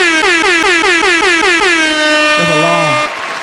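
Long air horn blast, loud and close, pulsing in rapid repeated bursts before settling into a sustained blare with a falling tone near the end.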